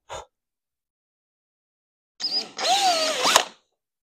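Power drill boring holes in a skid plate for a Baja Rey: a short burst, a pause, then a longer whining run of the bit cutting in, fairly close and loud with no talk.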